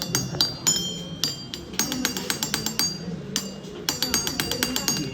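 Jal tarang played in a school science class by tapping a row of same-sized glass vessels filled with different amounts of water: bright ringing clinks struck in quick rhythmic runs with short pauses, clear and close.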